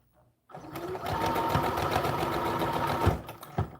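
A sewing machine backstitches the bodice of an American Girl doll dress, starting after a brief quiet moment with a steady, close mechanical whir and needle chatter that runs almost to the end, then a few short bursts as it stops.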